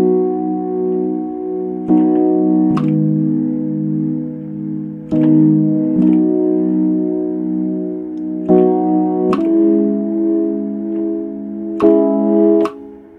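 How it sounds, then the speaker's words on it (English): A Yamaha Reface DX plays a Neorodes electric piano patch: soft, warm sustained chords that change every few seconds, each struck with a sharp attack and then left to ring, alone and close. "The first thing that I started off with were these chords out of my Reface DX."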